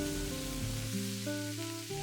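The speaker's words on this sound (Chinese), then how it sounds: "然后把切好的土豆倒在锅中。 我们要提前把土豆炒制一下。" Cut potato pieces sizzle steadily in a generous amount of hot oil in a wok, a close, even frying hiss with no talk over it.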